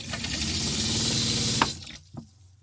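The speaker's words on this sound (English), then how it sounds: "I have water in the sink" Water pours from a tap into a sink inside a Chevy Express camper van, a steady close gushing stream that cuts off abruptly near the end, followed by a brief drip and clunk.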